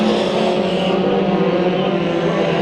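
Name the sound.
mini stock race cars racing at Bakersfield Speedway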